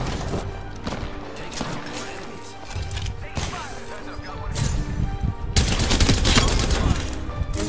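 Rapid gunfire fills a video game match, with bursts of close shots and a heavier volley toward the end, loud and continuous, while a player talks over it.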